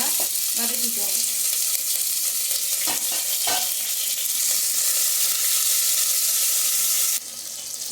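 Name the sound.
shallots and curry leaves sautéing in oil for sambar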